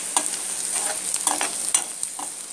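Carrots stir-fried in a pan with a little chilli powder, giving a steady close sizzle broken by repeated scraping stirs of a utensil against the pan, with no voices.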